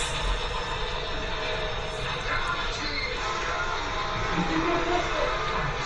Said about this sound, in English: the inevitable train's right on time.